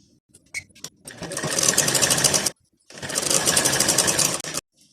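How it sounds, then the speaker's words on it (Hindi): A sewing machine stitches the sleeve hem edge of a lined blouse in two steady, loud bursts, each about one and a half seconds long, separated by a short pause, with light handling clicks before it starts. "सबसे पहले इसके जो मोहरी वाला भाग यहाँ से इस तरह से सिलाई कर लेंगे"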